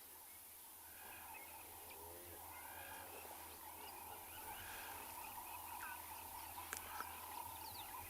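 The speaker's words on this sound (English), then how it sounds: "coupled with the amazing sounds of birds in the morning" Birds call in the early morning on a sunrise safari drive at Chitwa: scattered distant chirps and chattering calls over a low, steady engine-like hum.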